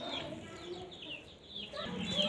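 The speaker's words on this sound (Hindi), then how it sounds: "ये मुर्गी जो है ना, ये कुड़क में है, तो ये सीधा मेरे पास आ गई और यहाँ पे बैठ गई" A broody aseel hen clucks softly and close by in a backyard poultry setup, low steady murmuring clucks running continuously with a brief dip midway, no talk.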